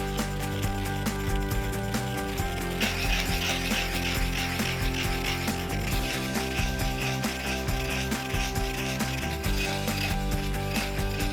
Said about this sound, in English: Take 1 tablespoon of salt and finely grind it.